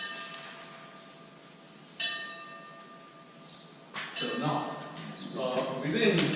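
A bell rings repeatedly during a lecture, with two clear strikes whose tone lingers and decays, followed by someone speaking over its fading resonance.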